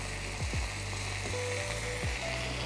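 Salty soy sauce sizzles in a hot pan over browned aromatics for a chicken noodle dish, a steady close frying hiss with a few sharp stirring scrapes and pan knocks, no talking.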